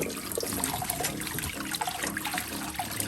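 Fresh spring water from a forest spring on Mt. Makiling trickles and splashes steadily, a close, continuous liquid rush with small bubbling accents throughout.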